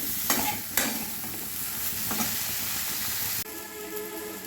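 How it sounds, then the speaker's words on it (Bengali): Potato and eggplant pieces with salt and turmeric fry in a pan with a steady sizzle, broken by a few scraping stirs, before the frying hiss changes tone near the end. "ভালোভাবে একটু ভেজে নিই।"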